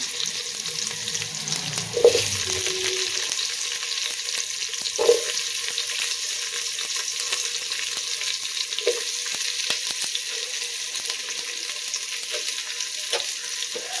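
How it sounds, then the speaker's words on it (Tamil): Whole spices frying in hot oil for paneer pulao give a steady, close sizzle and crackle, with a few sharper pops and faint stirring scrapes throughout. "எல்லாத்தையும் சேர்த்து இப்போது நம்ம இதை எண்ணெயில் போட்டுடலாம். பொரியட்டுங்க."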